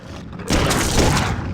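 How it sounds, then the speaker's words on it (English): The starting revolver in the video game Clive Barker's Undying fires a heavy, booming, cannon-like shot that bursts in suddenly after a quiet lead-in and rings out with a long, loud tail. "I have to mention the sound of your starting revolver."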